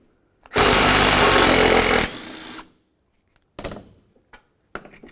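Power tool, likely an impact wrench, spinning out a front strut bolt on a 2000-2005 Buick LeSabre: one loud, dense burst of about a second and a half, then a softer trailing whir, followed by a few short metallic clicks and rattles.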